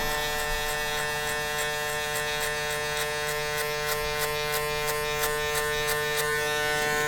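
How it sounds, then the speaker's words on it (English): Electric hair clippers buzzing steadily and close up while cutting a burst fade mohawk, with a constant tonal hum and a regular train of faint ticks as the blade works through hair. "using the corners of your clippers"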